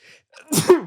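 A single sharp human sneeze, close and sudden after a brief intake of breath.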